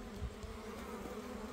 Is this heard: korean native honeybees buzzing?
yes